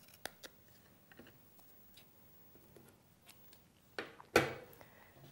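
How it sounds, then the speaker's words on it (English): Scissors trim ribbon along the edge of a gift card, giving a few faint snips and then a louder, sharp cut near the end, with quiet handling noise in between. "using a pair of scissors, you just want to trim along the edge of the card"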